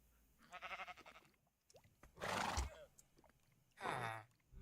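A horse in the video game Minecraft whinnies a few times with shrill, wavering calls separated by short pauses, fairly close and clear over a quiet background.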